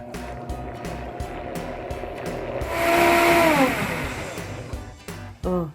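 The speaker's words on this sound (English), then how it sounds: "we want to blend this until it's good and frothy" An electric blender whirs through Dutch baby batter of flour, eggs and lemon zest, blending until frothy, a steady motor hum whose pitch glides and shifts midway before a brief pause and restart.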